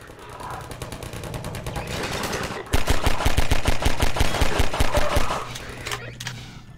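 Rapid video-game gunfire from Combine soldiers in Half-Life 2, first a fast rattling burst and then a louder dense volley of shots lasting a few seconds before tapering off.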